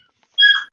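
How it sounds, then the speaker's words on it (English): A pit bull puppy lets out a short, high whimpering whine, close and loud, followed by the start of a second squeaky cry. "That's my dog, y'all, man."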